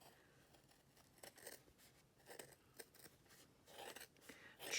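Scissors make a series of quiet, close snips while trimming machine-embroidered pencil toppers stitched four to a hoop, cutting them apart one at a time.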